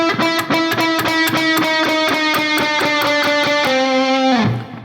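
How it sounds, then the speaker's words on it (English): Overdriven electric guitar repeats a rapid, evenly picked note over a pre-bent string, about a dozen steady attacks before the bend releases downward and the sound fades at the end, loud and alone. "One of these is a pre-bend release with picking."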